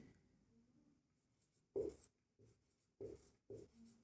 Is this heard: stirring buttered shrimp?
no